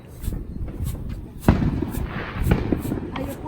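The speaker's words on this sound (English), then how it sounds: "Please be careful with fireworks because they are dangerous" Fireworks bursting outdoors at a Fourth of July celebration, with a sharp bang and then a second, softer pop a second later over a steady rumble of crowd noise and voices.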